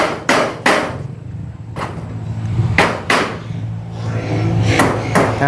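Heavy thuds strike at uneven intervals, several sharp blows close by, with a low rumble running underneath.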